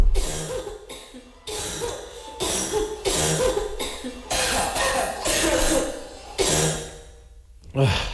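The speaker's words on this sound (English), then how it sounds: "It's dangerous to be coughing in public these days." Repeated harsh coughing fits, loud and close, come in bursts separated by short pauses, with a few throat-clearing sounds.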